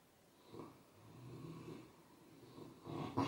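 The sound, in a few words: dog snoring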